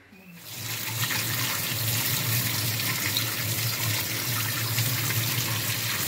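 Tap water runs in a steady, loud gush as cut fish are washed beneath it, starting after a brief moment of quiet and continuing without a break.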